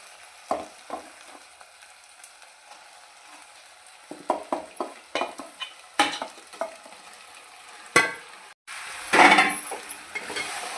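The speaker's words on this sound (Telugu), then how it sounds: "చికెన్ వేసేసుకుందాం ఇప్పుడు." Chicken goes into a pan of frying garam masala and is stirred, giving a run of sharp scraping and clattering utensil strokes over a faint sizzle, then a louder burst of frying; no one speaks.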